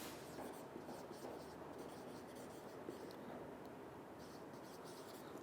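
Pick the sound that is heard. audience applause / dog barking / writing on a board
writing on a board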